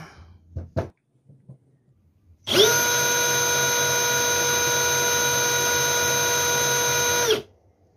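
A Milwaukee M12 Fuel Gen 3 brushless hammer drill, model 3404-20, whirs steadily at high speed for about five seconds, loud and close, starting abruptly after a few faint clicks and cutting off cleanly.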